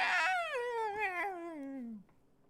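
A cat lets out one long, loud, drawn-out meow that slides downward in pitch before trailing off into quiet.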